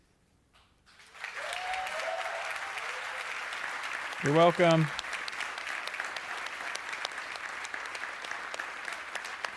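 Audience applause at a live video game showcase event fills most of the stretch after a quiet start, a steady broad wash of clapping under a man's speech with a brief sung or voiced flourish midway.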